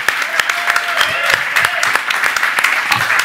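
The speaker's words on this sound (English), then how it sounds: "So round of applause." Audience at a live talk show applauds with a dense patter of hands, some claps standing out sharply near the front, sustained evenly for a few seconds.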